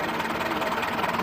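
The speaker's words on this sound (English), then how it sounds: "they fire in an unusual order, which gives it a distinctive popping sound when it's running" A vintage two-cylinder John Deere "Johnny Popper" tractor engine runs with a steady, rapid chugging beat, loud and close.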